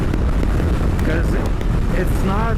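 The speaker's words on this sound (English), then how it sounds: "Wow, that is really windy." Strong wind buffets an outdoor microphone in loud, constant rumbling gusts while someone talks briefly over it.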